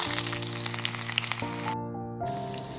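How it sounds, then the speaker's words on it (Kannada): Onion sizzling as it fries in hot oil in a home kitchen pan, a steady close crackle with tonal hum beneath, briefly dropping in brightness near the end. "ಇವಾಗ ಆನಿಯನ್ ಹಾಕಬೇಕು"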